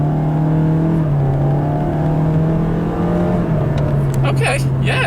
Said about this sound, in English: let's try out the sport shifter here